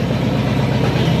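An old Farmall 400 tractor engine with a busted exhaust manifold runs loud and close at a steady idle, with a rough, even low-pitched chug after sitting unused for two years.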